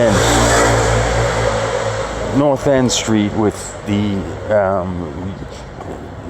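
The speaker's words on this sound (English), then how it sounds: "Italian moped sound. And they're not mopeds, they're motor scooters." An Italian motor scooter engine drones and revs under someone speaking close by on a street in Italy, its whine shifting in pitch as he talks over it.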